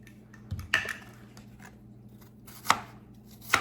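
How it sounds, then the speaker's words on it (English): A knife chops ginger on a cutting board in a few scattered, sharp strikes, close by, with quiet pauses between cuts. "This ginger, I'm just going to cut it into a little bit smaller pieces."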